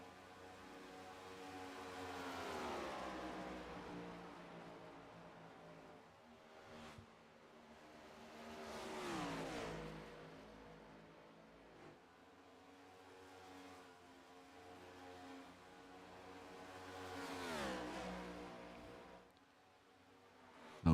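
Race cars lapping a Hotlanta track during a Gas N Go race, engines swelling in three long pass-bys as they approach and fade, distant and moderately loud with no talk.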